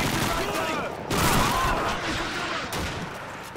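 Gunfire in the World War II shooter Call of Duty 2, with a dense, overlapping clatter of rifle and machine-gun shots and booms, loud and continuous, with voices shouting over the battle.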